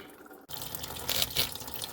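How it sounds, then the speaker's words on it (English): Coolant drains from the radiator drain of a 2008 Chevrolet Cobalt as a steady, close watery trickle and splash, faintly rising and falling, with no voices. "Well, coolant just slow drip."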